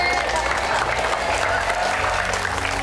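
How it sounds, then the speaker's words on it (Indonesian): A studio audience breaks into steady, dense applause, loud and close, with crowd murmur mixed in for the whole stretch. "Alhamdulillah dulu, boleh tepuk tangan."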